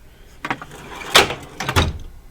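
An automotive technician's tool box drawer slides open with a few quick metallic runs and clacks, two louder rolling pulls standing out among lighter knocks, close and clear.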